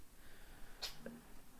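A single small, sharp sneeze from a cat, quick and fairly quiet against a faint background hiss.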